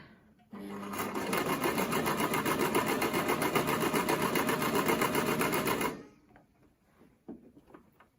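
A Brother XL 5600 domestic sewing machine running stitch program 7, a steady fast mechanical whirr and rapid needle clatter lasting about five seconds, starting and stopping abruptly, followed by quiet handling noises.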